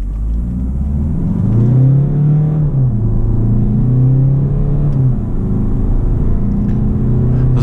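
Diesel Peugeot 3008 accelerating hard from standstill to 100 km/h, heard from inside the cabin as a loud, steady engine drone that rises in pitch, drops briefly at a gear change and climbs again, with no talking.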